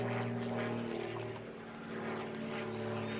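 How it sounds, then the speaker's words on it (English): A light propeller aircraft drones overhead near Jandakot Airport in suburban Perth, a steady, faint, distant hum with a low tonal buzz, heard alone. "It's a light aircraft."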